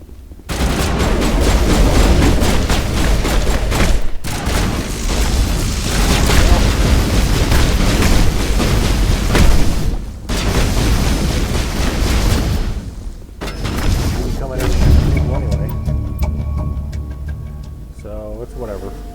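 Dense, loud gunfire and booming impacts rattle almost without pause through a firefight in the video game Mass Effect, with brief lulls between bursts and voices speaking over the battle.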